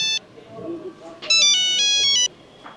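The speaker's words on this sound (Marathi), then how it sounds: "हा कोणाचा फोन वाजतोय? तुझाच वाजतोय." A mobile phone ringtone plays loudly as a bright repeating electronic melody for about a second, alone, with a short tonal burst before it and quiet room noise around it.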